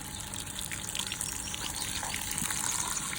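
Water running steadily while washing, a continuous close gushing and splashing from a tap with slight shifts in the flow, heard alone without talking.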